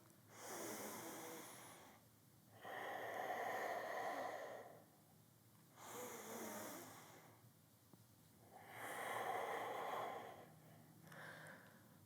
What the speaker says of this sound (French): Expire. Inspire. Expire. Inspire.